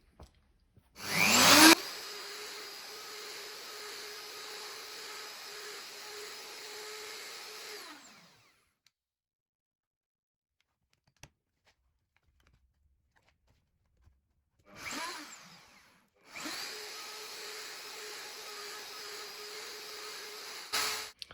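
A router cutting an angled scarf joint on a guitar neck blank held in a router jig, running as a loud sustained whine that stops, then restarts after a silent gap, with short bursts at the start and near the end.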